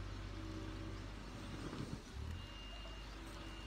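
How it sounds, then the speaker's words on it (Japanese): Near a snowy shrine, a snowplow engine drones steadily as a faint, distant low rumble, joined briefly by a thin high tone. "除雪車のね、音もすごいですけど"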